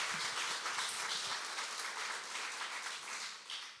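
A large audience applauds steadily at a New York City public event, with a dense, even wash of clapping that runs throughout at a moderate, slightly distant level.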